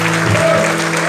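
A church congregation applauds in a steady, dense wash of clapping, loud and close, with a faint voice underneath.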